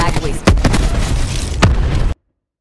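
War Machine grenade launcher rounds explode in Black Ops 4 on a jungle map, several sharp booms spaced a second or so apart amid loud game noise, ending abruptly in silence.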